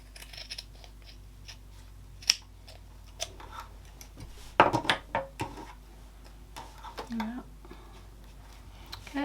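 Scissors snipping through felt for a handmade felt case: a few sharp, close cuts, one short cluster of snips near the middle, among light handling noises.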